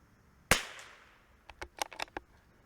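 A .22LR Tikka T1x MTR rifle fires one sharp, close crack that decays quickly, followed by a burst of quieter clicks and knocks.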